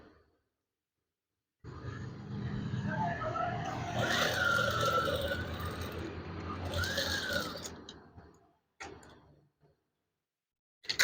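A sewing machine stitches curtain fabric in a sustained, whirring run of several seconds, followed by a couple of brief short bursts, close and without talk.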